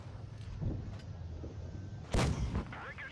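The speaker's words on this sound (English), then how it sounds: "Ah, that was annoying, that ricochet." A tank shell ricochets in World of Tanks Blitz, a sudden loud metallic impact burst that rings out after steady engine rumble, with faint voice in the background.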